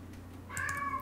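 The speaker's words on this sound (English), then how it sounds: "Now he's going to come meow at me." A house cat lets out a single drawn-out meow in the second half, close and fairly quiet indoors, after a moment of low room hum.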